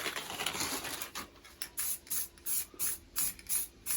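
Aerosol spray can dusting undercoat onto the rear end of an Abarth car, a hissy burst followed by a series of short, evenly spaced spray puffs close by, with no talk.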